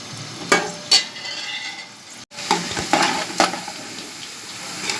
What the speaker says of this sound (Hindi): अब हम इसके अंदर प्याज को ब्राउन कर लेंगे, लेकिन बिल्कुल लाइट